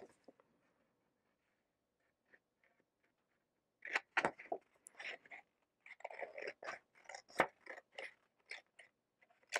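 Scissors cut through the bottom of a paper envelope in a crafting session, a run of sharp, crunchy snips close by after a quiet start with faint rustling.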